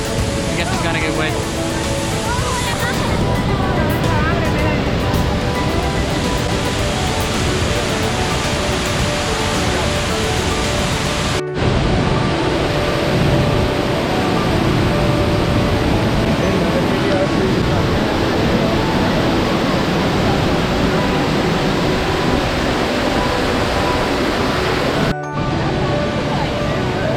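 A loud, steady roar of rushing water from Iguazu Falls fills the scene without letup, broadband and very close, with brief dropouts near the middle and end.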